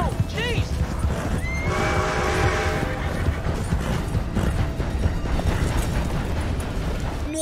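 A horse in Red Dead Redemption 2 whinnies loudly with a long rising and falling neigh, over a constant dense rumble of hooves and game action, with people talking throughout.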